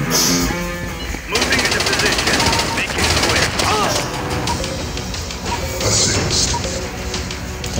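Rapid automatic gunfire in the mobile shooter game Critical Strike CS: Counter Terror, sustained loud bursts and impacts filling the clip with little pause.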